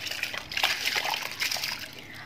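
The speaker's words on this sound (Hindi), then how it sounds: "अब इसमें हमने चावल डाल देने।" Rice is poured into a pot of nearly boiling water for Kashmiri biryani, giving a continuous close splashing and sloshing wash that lasts a couple of seconds without talk.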